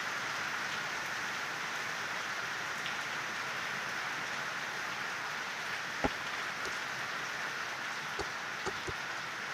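Heavy evening rain pouring steadily as a dense, even hiss that fills the whole stretch, with a few sharp drips or knocks near the end.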